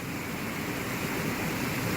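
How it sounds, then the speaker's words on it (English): Steady, loud rushing water behind a water treatment plant in Manhattan, Kansas, a continuous broadband roar with no breaks. "I hope you can hear me over this rushing water."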